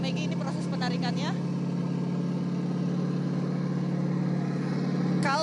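A heavy marine combat vehicle engine drones low and steady at close range while it drags a bamboo sea fence off the seabed, with a person talking over the rumble at the start and end.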